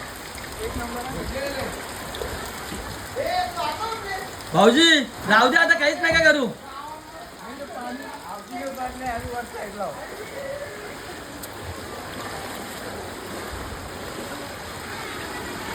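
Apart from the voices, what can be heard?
rainwater flowing into a water tank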